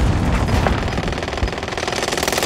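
Rapid automatic gunfire rattles continuously in a Call of Duty Warzone match, loud and close, with dense bursts and a few heavier booms mixed in.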